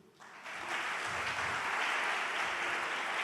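A church congregation claps steadily in a room during a service, the applause swelling in after a brief quiet start and continuing evenly without voices.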